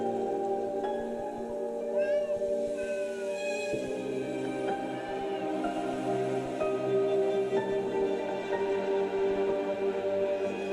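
Cat meows from a BTS Universe game trailer, a few curling cries rising over a dense, steady bed of music and ambience, never standing far above the mix.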